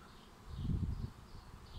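A low, droning buzz of a wasp swarm at a nest in a cherry tree swells briefly louder and then settles, close by and without any voices.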